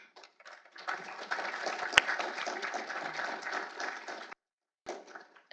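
An audience at a panel discussion applauds in a steady, moderately distant patter of many hands for several seconds, then stops, followed by a brief resumed burst.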